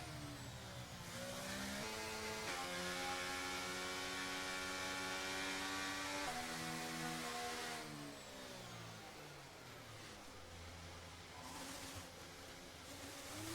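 Racing car engine in the F1 23 video game revving and shifting through gears, pitch climbing and dropping steadily under a loud, continuous drone with no talk.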